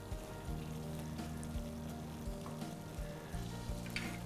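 Bombay chutney made with gram flour boiling in a pan, a faint, steady bubbling simmer with a low hum beneath it and no talking.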